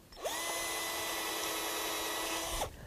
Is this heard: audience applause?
no